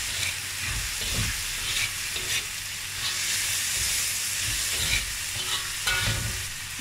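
Garlic and the white parts of scallions fry in a pan for low-oil fried rice, giving a steady close sizzle with occasional stirring scrapes and no talk.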